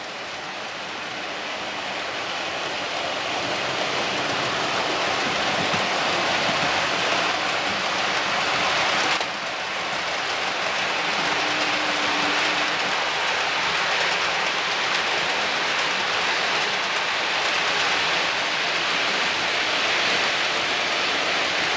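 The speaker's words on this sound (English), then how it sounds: "And I'll let these trains go through once more" A steady, continuous rumbling rush of Dapol model trains with container wagons running along the track, close and fairly loud, unbroken for the whole stretch with no voices.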